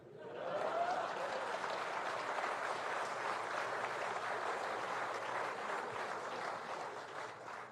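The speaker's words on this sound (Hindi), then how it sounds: "लेकिन जब मैं कहूं तब ताली बजती है।" An audience at a political speech applauds, a dense sustained burst of clapping that swells quickly and holds loud for several seconds before easing slightly at the end.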